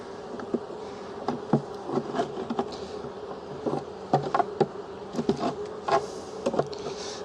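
Honeybees hum around wooden hive frames while a nuc is set up with a queen cage, a low, steady drone broken by scattered clicks and taps from handling the frames nearby.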